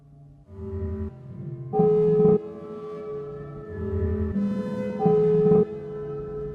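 Sustained synthetic crystal quartz bowl tones from a software instrument swell and shift in layered chords, with brighter shimmering bursts rising twice over a steady drone.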